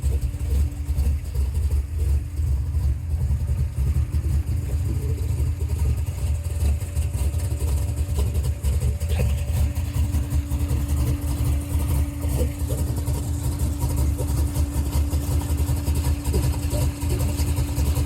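Tubed 1967 Chevelle Pro Street with a 572 V8 and five-speed idles nearby, a loud, steady, lumpy rumble lasting throughout without any talk.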